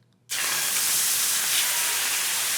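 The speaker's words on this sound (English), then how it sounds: "try not to get scared of the pan sizzling like I did here" A loud, steady sizzle of orange chicken sauce bursts in suddenly after a brief quiet moment and keeps hissing strongly without letup in a hot pan.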